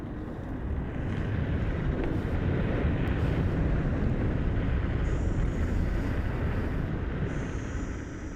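Heavy, continuous wind roar buffets the microphone while someone rides a Nami Burn E electric scooter, loud and steady throughout with no talking.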